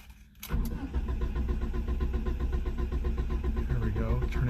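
A one-cylinder engine cranks steadily after a click, a loud continuous starter churn with rapid pulsing that does not catch, close by.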